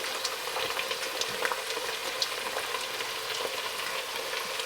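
Garlic, celery and onions frying in a pan give a dense, steady crackling sizzle with scattered pops and light stirring, loud and close with no voices.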